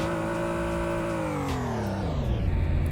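Engine of a base-model BMW E46 3 Series in the Greenville driving game revving loudly and steadily, its pitch easing down through the middle of the run, with no talking.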